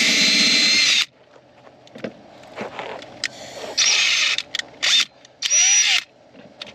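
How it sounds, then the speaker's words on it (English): A power drill whines in short bursts while boring a pilot hole for roof racks and light bars, with a long opening run followed by several brief stop-start pulses separated by quieter handling noise. "I'm gonna go to drill and drill bit, and we'll pop a hole in it."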